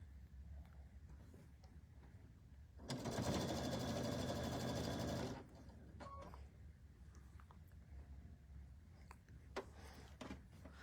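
Sewing machine running a long, scant stitch down the open sides of a herringbone double oven mitt, a steady mechanical whir of about two and a half seconds amid quiet room noise.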